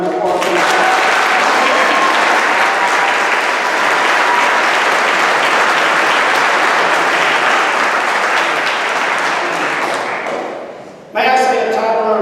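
A packed audience at a sports hall of fame ceremony breaks into loud, sustained applause close by, the clapping dense and even before cutting off abruptly near the end as a voice resumes.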